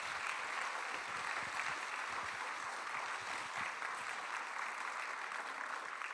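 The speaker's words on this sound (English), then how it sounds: "I'd like you to give a round of applause for each other" A large conference audience applauds with continuous, dense clapping that holds steady for several seconds.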